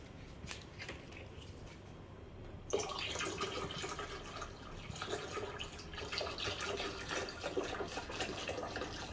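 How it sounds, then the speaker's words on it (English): Water is poured into the reservoir of a Lelit Mara X espresso machine, a steady close rushing pour that grows fuller partway through and continues without break. No one speaks. "I think I need to top up water in my reservoir"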